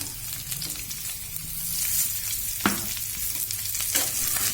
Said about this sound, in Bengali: এবারে আমি পেঁয়াজগুলো এর মধ্যে দিয়ে দিচ্ছি।